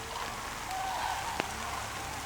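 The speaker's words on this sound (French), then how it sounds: "Retour de la pluie aussi." Steady rain falling outdoors in the woods, a continuous soft hiss with one brief sharp tap partway through.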